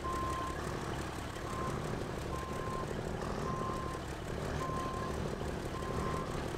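In the video game SnowRunner, a truck's reversing alarm beeps at a steady, regular rhythm over a constant engine drone.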